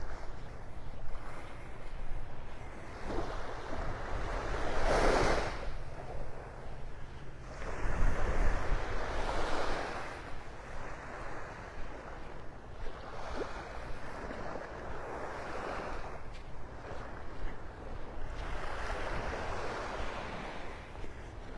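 Surf washing onto a Southwest Florida beach in North Naples, with broad swells of wave noise rising and falling every few seconds over steady wind rumble on the microphone.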